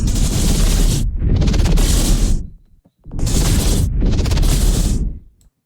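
Synthesized explosion sound effect made in Phase Plant, two loud roaring noise bursts, each swelling and cutting off abruptly, separated by a short silence.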